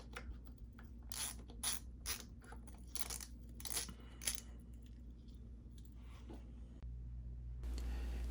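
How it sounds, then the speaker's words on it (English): A socket driver ratchets in short clicking bursts while loosening or tightening chainguide bolts on a bicycle, crisp close clicks in uneven runs, followed by a quieter stretch and low hum at the end. "I am using my standard socket driver to remove and install these parts"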